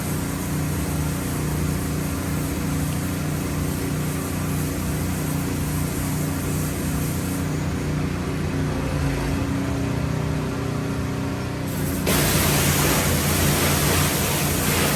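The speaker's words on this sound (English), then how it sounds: "Having a thorough rinse going on here after putting the degreaser on" Pressure washer rinsing heavy degreaser off a log truck, a steady broadband hiss of water spray that runs throughout, growing louder and brighter near the end as the jet moves closer or strikes a harder surface.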